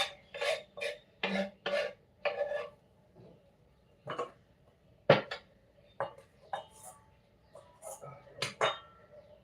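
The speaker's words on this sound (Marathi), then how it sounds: "भांड्यातच किसून घेते आहे." Five or six garlic cloves grated directly in a vessel for coriander bhaji, producing close, rhythmic rasping strokes in short bursts with brief pauses between them.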